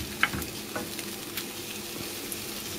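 Blini batter frying in a pan, a soft continuous sizzle with a few small crackles and a light clink of a utensil near the start, quiet and steady with no voices.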